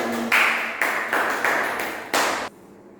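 A classroom group gives a brief round of applause after a student presentation, several bursts of clapping in a loose rhythm that stop abruptly, nearby and moderately loud with no voices.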